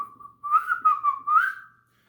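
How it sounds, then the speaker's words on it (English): A person whistles a short tune close by, a few clear rising and falling notes over about a second, alone with no speech. "who, to prove he wasn't scared, simply whistled"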